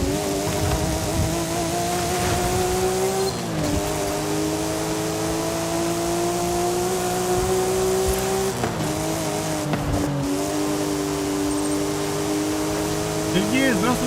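A steady, droning car engine in the racing video game Forza hums throughout at a constant pitch, shifting slightly a few times as if changing gear, with occasional tire noise.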